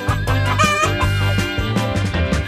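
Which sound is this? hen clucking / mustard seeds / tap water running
hen clucking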